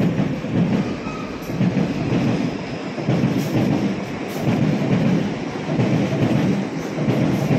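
A train in Hong Kong runs toward Shenzhen with a steady, continuous rumble and broad roar that swells and eases over several seconds, fairly close and loud, with no voices.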